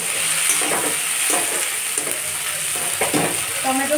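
A whole tomato drops into onions frying in a pan, setting off a steady sizzle with bursts of stirring and scraping, close and fairly quiet.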